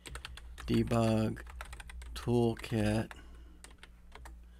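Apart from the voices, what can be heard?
typing a URL on a computer keyboard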